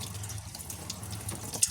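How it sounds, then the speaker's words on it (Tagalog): A tap runs weakly into a sink, a thin steady trickle with soft splashing and a faint drip near the end. "Hinay ang tubig"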